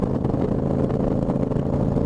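Motorcycle engine running steadily while riding on a road after recent snow, a loud, continuous low rumble with a slightly choppy throb, close and unbroken without talk.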